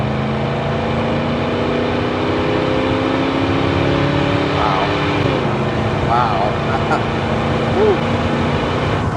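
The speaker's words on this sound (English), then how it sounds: "Give it just a little bit of gas here." A 1966 Mustang Fastback's Ford 289 V8 is given light throttle, its steady low engine drone rising a little partway through, with talk over it throughout.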